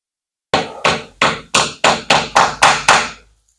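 Wire brush striking a tire to knock loose dirt off, eight sharp, close knocks in a steady rhythm, each with a quick decay, no voices.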